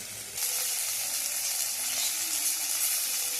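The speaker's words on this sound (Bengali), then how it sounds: "এবারে আমি ঝিঙে শাকটাকে অ্যাড করে দেবো ওর সঙ্গে একটু ভাজা ভাজা করে নেব" Potato, onion and gima greens fry in a pan with a loud, steady sizzle that jumps up as the greens go in and then holds evenly, with no talking.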